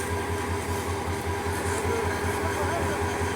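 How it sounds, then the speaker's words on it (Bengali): A shuttle train hauled by locomotive 2935 arrives at a station, with a steady, loud rumble and rhythmic low wheel clatter running throughout. "একটি ট্রেন এইমাত্র আসলো, সম্ভবত চট্টগ্রাম থেকে আসলো 2935 লোকোমোটিভ নিয়ে একটি শাটল ট্রেন"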